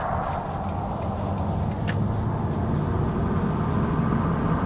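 A 2001 Nissan Maxima under way on the road, its engine and road rumble a steady, loud cabin drone with no clear shift break heard.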